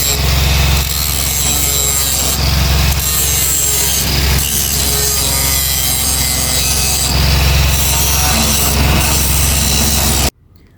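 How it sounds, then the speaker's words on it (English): A palm fruit grinding machine in a palm oil processing operation runs loudly and continuously with a harsh, gritty churn and periodic rhythmic surges, then cuts off abruptly near the end. "So this machine right here does the work of grinding the palm fruit."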